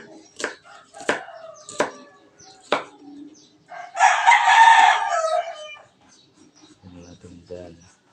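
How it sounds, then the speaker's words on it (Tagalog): Onion chopped with a knife gives four sharp, spaced thuds on a board up close. A rooster then crows loudly nearby, and a short low vocal sound follows at the end. "Maghiwa tayo sa ating sibuyas."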